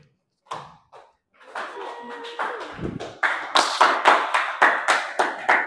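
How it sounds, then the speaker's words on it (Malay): Classroom applause builds from scattered claps into lively group clapping, many hands beating close by with a quick, uneven rhythm. "tepukan untuk kumpulan 1"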